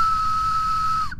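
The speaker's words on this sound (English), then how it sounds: "Have you got your special educational whistle?" A single steady whistle blast holds one clear, sustained tone for about a second before cutting off, sounding close and loud with no speech.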